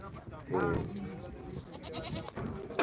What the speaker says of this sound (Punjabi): ਬੱਕਰੇ ਵੀ ਨੇ ਬੱਕਰੀਆਂ ਵੀ ਨੇ